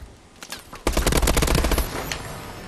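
Automatic gunfire in Call of Duty: Advanced Warfare: a few scattered shots, then a loud, rapid sustained burst that tails off into echoing noise.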